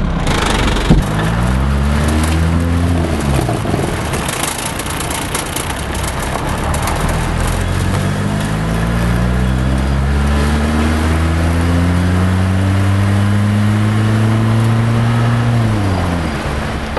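A 1982 VW Diesel Rabbit driving, its diesel engine droning steadily from inside the car as it pulls through rising and falling gears, loud and continuous with no talking.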